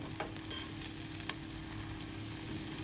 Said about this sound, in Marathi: आता ह्याला दोन तीन मिनिटं चांगलं भाजून घेऊया